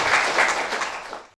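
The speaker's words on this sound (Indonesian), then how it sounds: "Tepuk tangan yang meriah dulu" Lively applause from a crowd at a traditional Nias wedding celebration, a brief, dense burst of many hands clapping that cuts off abruptly.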